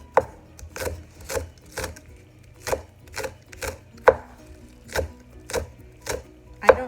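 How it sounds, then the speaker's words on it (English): A knife chops green onions on a cutting board in about a dozen crisp, evenly spaced strokes, close and clear with no talking. "now I'm just going to chop up the green onions"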